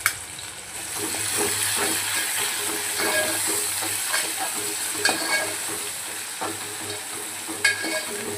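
Chillies and onions sauté in a pan for Hyderabadi mutton masala curry, giving a continuous close sizzle with scraping stirs and a few sharp clinks against the pan; no voices.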